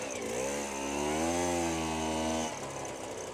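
An Aprilia RS125 two-stroke motorcycle rides off-road in a quarry, its high buzzing engine revving up and holding a strained whine for a couple of seconds before dropping away, heard close and alone.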